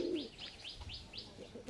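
A large pigeon in a loft giving a brief low coo followed by a quick run of faint repeated chirps, quiet and close.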